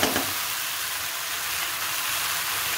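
Jackfruit curry with masala fries in a pan, giving a steady, dense sizzle that runs unbroken at close range with no voices over it.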